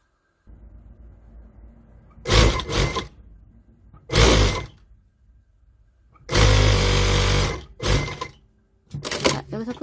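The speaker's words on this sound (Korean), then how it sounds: "오버로크를 일단은 한 바퀴 다 치고 여기만 남겨놓고 오겠습니다." An overlock sewing machine stitches pants fabric in loud whirring runs, several short bursts and one longer stretch, separated by quiet pauses with faint handling noise.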